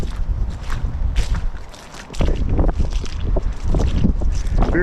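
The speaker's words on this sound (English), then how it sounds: "Very, very windy day today." Strong wind at a muddy oyster shore buffets the microphone in loud, rough gusts, easing briefly before surging again, with faint crunching steps underneath.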